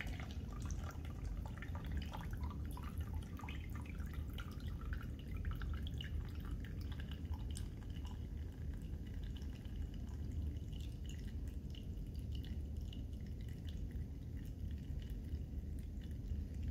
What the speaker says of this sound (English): It's dripping just because the water's moving slightly, but it won't affect the result very much.